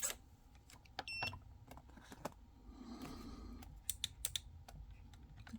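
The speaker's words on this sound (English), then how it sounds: "Clicking sounds are me adjusting the height of the horn to make sure the gap is closed." Small mechanical clicks from adjusting the horn height on an RS100 micro servo during torque testing, a quiet scatter of sharp taps and ticks with faint electronic beeps, close up in a still room.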